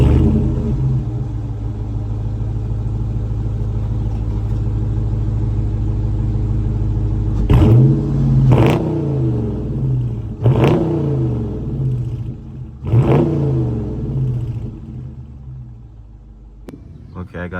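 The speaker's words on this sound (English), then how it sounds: "I feel like I should rev it for a before and after for y'all" A Dodge Charger R/T engine rumbles at a deep, steady idle nearby, then is blipped in four sharp revs that rise and fall quickly before it settles back to a lower idle.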